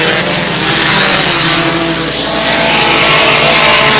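Race cars roaring around a track during a race, a loud dense engine blare with one car sweeping past nearby and others droning behind, heard without talk.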